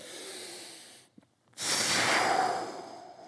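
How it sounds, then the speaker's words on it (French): Breathing in and out during a mobility and core exercise routine, with a long strong exhale after a brief pause, close to the microphone and alone. "Inspirez. Soufflez."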